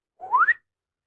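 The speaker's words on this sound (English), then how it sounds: "He often comes up behind people and whistles." A single short whistle from a person, sliding upward in pitch over about half a second, clear and alone in silence.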